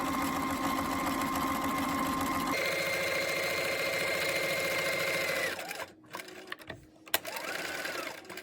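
Sewing machine stitching down the handle of a fabric case, a steady close mechanical whir that changes pitch midway, then stops with a few handling clicks and knocks before running again briefly.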